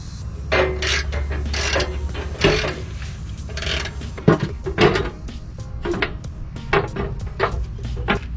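Ratchet wrench removing bolts under a car, a rapid series of sharp metallic clicking bursts repeating in uneven spurts, close and loud, with no talk.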